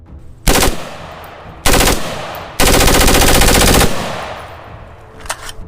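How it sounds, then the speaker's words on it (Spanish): Bursts of automatic gunfire sound loud and close, three rapid volleys with the last one long and sustained. A fainter burst follows near the end. No voices. "Di varios disparos contra ellos"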